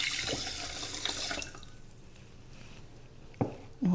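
Water pours into a rice cooker pot holding washed rice, cinnamon and cardamom pods, a bright splashing stream for about a second and a half, then quiet before brief handling knocks near the end.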